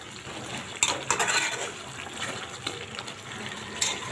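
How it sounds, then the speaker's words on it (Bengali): Hot water pours into a pot of browned chicken curry cooked with new potatoes, giving a steady close splashing gush with a few sharp metallic clinks throughout. "গরম পানি দিয়ে দিব"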